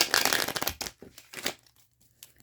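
A deck of tarot cards is shuffled by hand, producing close, crisp papery riffles and rustles in a few short bursts that thin out into quiet taps.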